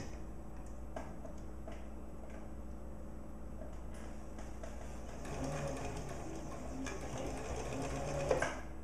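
A sewing machine stitching, steady fast mechanical ticking and whirring close up, with a brief pause and a louder, busier run of stitches toward the end, quiet throughout.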